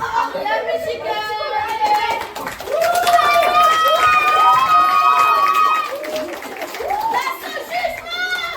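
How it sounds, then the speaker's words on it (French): At a school talent show, an audience bursts into high-pitched cheering and whooping, with children's voices prominent, scattered clapping and loud swelling shouts in the middle of the stretch. "Merci d'applaudir bien fort la musicale."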